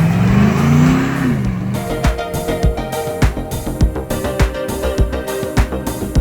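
A custom Land Rover Defender 110 with a GM 6.2-litre V8 and six-speed automatic revs loudly up and down, then gives way to a rhythmic, pulsing stretch of sharp, repeated hits.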